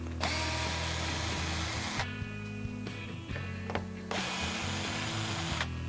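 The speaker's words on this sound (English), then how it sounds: "There's a back panel right here with 10 T25 Torx screws. We're going to use our drill with the bit." A power drill with a bit whirs in bursts, stopping and starting as ten T25 Torx screws are backed out of a 2015-2017 Ford F-150 tailgate back panel, with a ratcheting mechanical rattle between runs.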